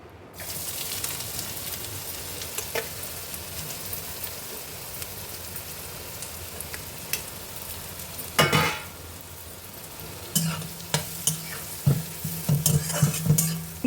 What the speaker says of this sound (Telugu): ఇప్పుడు మళ్ళీ కడాయి పెట్టేసి ఆయిల్ వేసి క్యారెట్ వేయాలి ముందుగా.